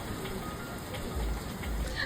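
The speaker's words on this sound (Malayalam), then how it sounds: "പുറത്തോട്ട് ഇറങ്ങുമ്പോൾ ഇതാണ് അവസ്ഥ, കോരി ചൊരിയുന്ന മഴ." Steady, dense rain pouring down, a constant hiss of drops hitting surfaces throughout with no pauses.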